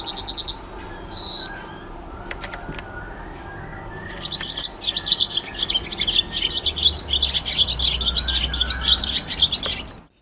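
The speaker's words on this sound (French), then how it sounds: "Au rez-de-chaussée, les chants d'oiseaux résonnent." Birds sing on a building's ground floor: a few clear whistled chirps at first, then a dense, continuous chorus of twittering calls, moderately loud and close.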